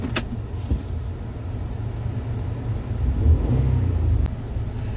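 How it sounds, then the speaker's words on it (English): A Mitsubishi Pajero GDI engine idles roughly, a steady low rumble with slight unevenness that swells a little toward the end, accompanied by a couple of brief clicks. "The truck's a little shaky at idle"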